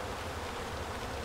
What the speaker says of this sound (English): you can see that the bees are sort of playing around at the bottom here